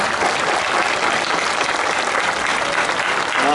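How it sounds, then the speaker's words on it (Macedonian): Dense, steady applause from a concert audience at a folk music performance in Delchevo, Macedonia, filling the whole stretch with continuous, loud clapping and faint crowd noise. "Аплауз за него."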